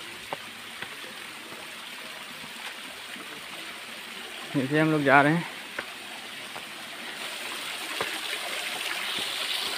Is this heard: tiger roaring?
no